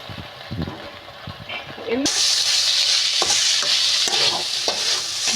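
Fresh mint leaves sautéing in a pan for chutney, a loud sustained sizzle that jumps up midway, with scraping stirs and spoon knocks, while people talk over it.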